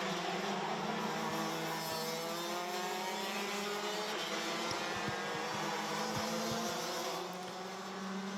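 DD2 racing karts on the Genk circuit give a continuous buzzing, revving two-stroke drone from a distance, several engines overlapping with shifting pitch as they lap.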